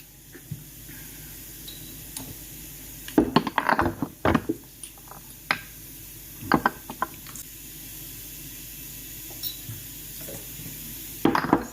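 Chicken seasoned with chili powder and cumin being stirred in a pan, with a low sizzle underneath and scattered scrapes and clinks of a utensil against the pan, clustered in bursts, close up with no talking.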